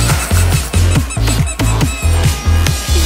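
A rubber duck squeaked over and over in a quick, regular rhythm of about three squeezes per second, loud and close, with no talk over it.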